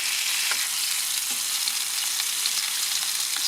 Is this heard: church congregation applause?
no